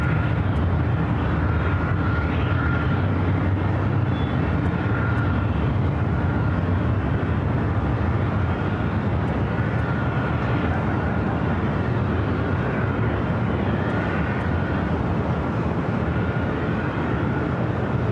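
An airliner landing on runway 24 right at LAX produces a steady, loud, broadband jet roar with a low rumble and a faint whine that holds evenly throughout, with no voices.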